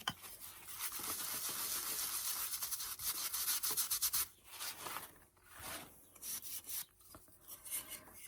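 Brown finishing wax is rubbed and wiped across scrap wood with a cloth, a steady close scuffing that runs continuously for about four seconds, then breaks into shorter irregular strokes with brief pauses.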